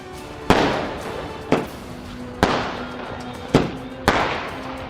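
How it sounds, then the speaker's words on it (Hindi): Diwali firecrackers and fireworks burst in a sharp series of five loud bangs, each trailing off into a crackling, rumbling decay, spaced about a second apart outdoors. "पटाखे जलाना युवाओं और बच्चों की पहली पसंद है"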